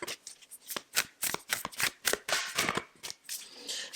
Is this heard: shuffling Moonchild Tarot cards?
yes